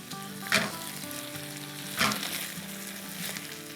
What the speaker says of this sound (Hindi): वाह क्या फ्राई हो रहे हैं हमारे आलू